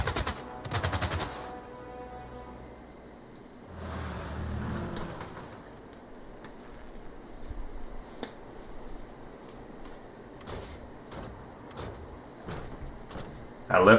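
Machine gun units fire in Civilization VI: a rapid burst of shots at the start, then scattered sharp cracks and a few short volleys over a low, quiet rumble.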